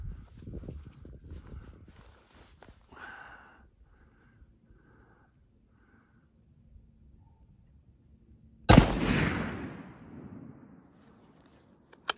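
A 30-06 rifle firing a 150-grain 30-30 bullet at an outdoor range lets off one sharp, loud crack with a fading tail, after several quiet seconds of faint background sound.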